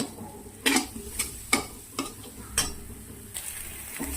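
Eggs stirred into a pan of frying masala, a series of sharp scraping stir strokes over a soft sizzle, close and distinct, with no talking.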